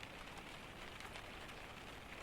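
Soft, continuous rainfall patters with a faint, even wash, with no voices over it.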